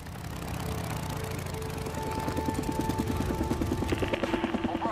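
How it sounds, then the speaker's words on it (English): A plane engine drones overhead in the video game Days Gone, a steady mechanical hum that swells and takes on a pulsing beat toward the end, with no talk. "Oh, the plane!"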